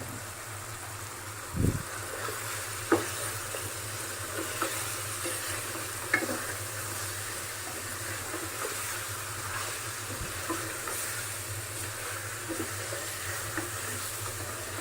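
Chicken pieces fry over medium-high heat with turmeric added, a steady low sizzle running throughout while occasional scrapes and knocks from stirring in the pan stand out, quiet and close with no voices.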